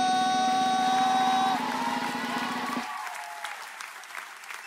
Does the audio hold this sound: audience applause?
yes